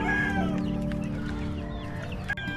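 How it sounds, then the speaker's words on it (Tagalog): Chickens cluck steadily with higher chick peeps mixed in, a busy, continuous flock chatter close by with no talking. "grabe, nagkakagawan din yung mga sisiw."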